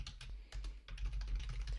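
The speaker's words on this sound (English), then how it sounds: "I would just start typing" Computer keyboard typing, quiet and close, with a quick, uneven run of soft key clicks over a low background hum.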